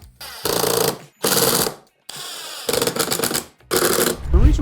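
A power driver sinks screws into wood on a handmade wooden key holder: five loud, close bursts of buzzing, each lasting around half a second to a second, separated by short silent gaps.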